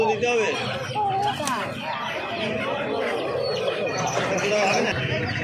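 Roosters and hens clucking and calling at the Uluberia poultry market in Bengal, a dense, steady mix of bird sounds close around, with people talking over the crowd noise.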